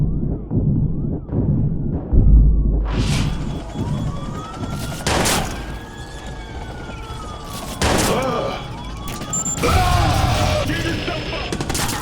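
Bursts of automatic gunfire in the video game Watch Dogs during a police shootout, loud repeated volleys over a wailing police siren, with sharp single shots and clatter between bursts.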